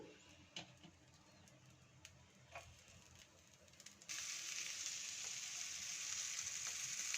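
Black cumin seeds and garlic go into hot oil while prawn paste is being cooked. Quiet, scattered clicks and taps come first, then a steady, brighter frying sizzle takes over for the last few seconds. No one speaks.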